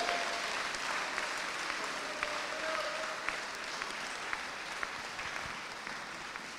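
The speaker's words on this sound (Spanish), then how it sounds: "Aplaude su gloria." A church congregation at a worship service applauds, a steady bed of clapping heard at a moderate distance and fairly quiet, with a few sharper individual claps standing out.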